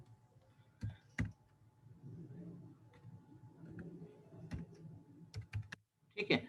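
Sparse taps on a computer keyboard while text is entered into a spreadsheet dialog, some isolated clicks and a short burst of quick keystrokes near the end, faint and close against a quiet room murmur.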